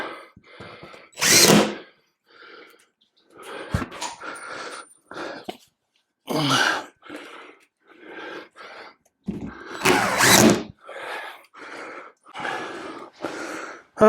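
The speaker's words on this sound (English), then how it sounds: "Let's pop a few screws in that before it falls down on us." A power drill drives screws into a plumbing repair job, loud whirring bursts in short runs separated by pauses, with breathy sounds between them.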